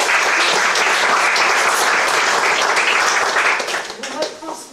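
At the opening of a sculpture exhibition, a crowd breaks into loud, sustained applause, a dense wash of clapping that continues for several seconds before thinning out as voices start up.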